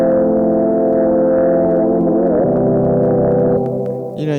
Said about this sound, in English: doing interesting stuff like that vibrato automation